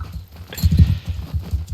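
Horse hooves in the video game Mount & Blade II: Bannerlord thud in an uneven trot, loudest early on then settling into a steady clip-clop rhythm, with a faint hiss of background ambience.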